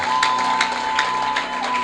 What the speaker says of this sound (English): clap and celebrate this on Sunday, on Sunday?